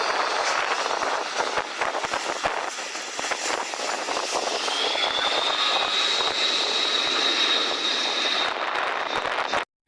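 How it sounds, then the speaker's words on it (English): A C-130 Hercules propeller aircraft roars loudly and steadily as it passes close by while landing, with a rising whine in its engines before the sound cuts off. "let alone land an aircraft like this C-130 Hercules"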